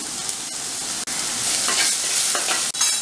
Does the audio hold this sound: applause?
no